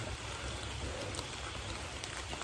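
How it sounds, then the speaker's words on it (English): Light drizzle falls steadily at the edge of a forest where a field meets the trees, a soft, continuous patter of fine raindrops on leaves and ground, quiet and even throughout with no voices. "There's a light drizzle"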